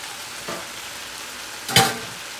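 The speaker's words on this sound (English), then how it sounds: "Oh, it's really sizzling." Cabbage sauce sizzles steadily in a pot, with a soft clatter early on and a louder scrape or lid movement near the end.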